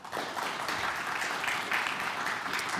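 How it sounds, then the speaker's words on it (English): At a junior quiz bowl match, a studio audience applauds the North Boone Vikings team with a steady, fairly soft patter of many hands clapping, sustained evenly throughout. "a nice round of applause for the North Boone Vikings"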